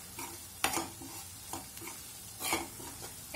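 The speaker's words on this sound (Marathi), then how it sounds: "सगळं व्यवस्थित जे आहे ते आपल्याला इकडे परतून घ्यायचंय" Onion, cashew and tomato masala being sautéed in a pan for a restaurant-style mushroom curry, with a soft steady sizzle broken by several sharp scraping stirs of a spatula, close and fairly quiet, no talking.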